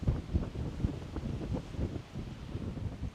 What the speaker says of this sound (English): It's quite windy up here